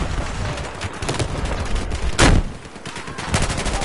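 Rapid bursts of gunfire from the Battlefield video game crackle loud and close, with dense automatic fire running throughout and one sharp, heavier shot standing out in the middle.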